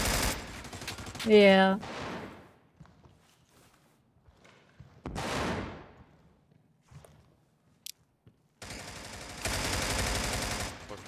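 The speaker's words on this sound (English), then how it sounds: "I think Mousetrap will just shoot through the wall" Gunfire in a competitive shooter match, fired through a wall at a boiler-room position: a loud burst of rapid shots early on, later broad noisy bursts and a sustained stretch of fire, with a brief spoken word near the start.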